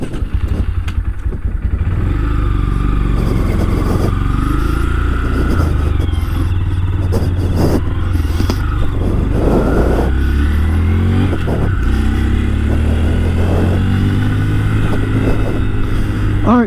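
A white 2024 Honda Grom ABS motorcycle's small engine runs steadily and close by, its loud, even low drone holding through the whole stretch with little change in pitch.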